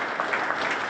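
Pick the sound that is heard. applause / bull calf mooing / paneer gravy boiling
applause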